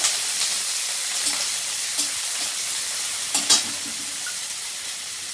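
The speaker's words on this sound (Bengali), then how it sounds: "আমি এবার পেঁয়াজ কুচি দিয়ে দেবো পেঁয়াজটা লাল লাল করে ভেজে নেবো" Chopped onion sizzles in a pan in a continuous hiss, broken by a few brief scraping stirs of a spatula.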